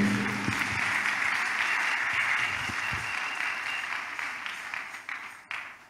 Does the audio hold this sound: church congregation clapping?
yes